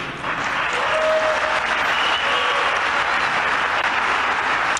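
Steady, dense applause from a large audience after Trump's announcement, Mohammed bin Salman among those clapping; loud and continuous throughout with no pauses.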